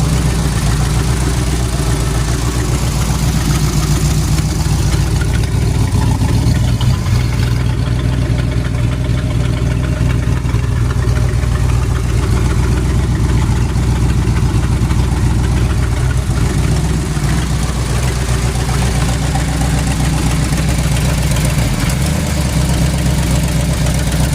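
A Mopar big block twin turbo engine idling, a loud, steady low rumble with slight lumpy variation held for over twenty seconds.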